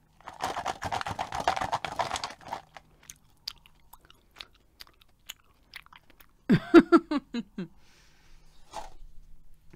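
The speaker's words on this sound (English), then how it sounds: "Am I eating peanut butter straight from the jar?" Eating extra crunchy peanut butter straight from the jar: a close, dense burst of crunchy chewing, then scattered soft mouth clicks and a second louder chewing flurry with a brief vocal hum, all quiet and intimate.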